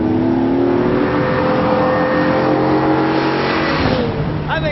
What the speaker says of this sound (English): I think it's a great engine, these V12 Jag motors.